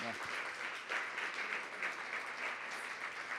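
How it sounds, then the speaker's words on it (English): An evening event audience applauds a moderator and guest, a steady wash of clapping at a moderate distance that lasts a few seconds. "A round of applause for our moderator and our guest this evening"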